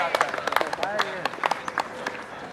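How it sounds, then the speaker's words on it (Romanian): Spectators at the Arad marathon, held alongside an ultramarathon, half marathon and relay in May 2016, clap and cheer in scattered bursts, with shouting voices mixed into the brief, fairly close applause. "Aplauze, încurajări."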